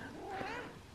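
A pet cat meows once near a taxi at home, giving a single drawn-out, wavering cry that rises and falls over about a second, fairly close but quiet against a background hum.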